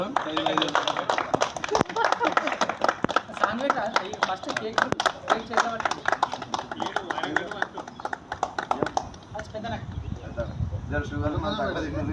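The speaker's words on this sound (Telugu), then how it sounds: "క్లాప్స్ కొట్టరు మీతో." An audience claps continuously at a World Photography Day gathering of a mandal photographers' and videographers' association, dense overlapping applause running under a speaker's voice before easing off near the end.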